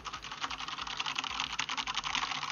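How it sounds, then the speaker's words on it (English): Computer keyboard typed on rapidly in a burst of fast, even clacking keystrokes, close and fairly quiet, with no voices. "when I spam my keyboard"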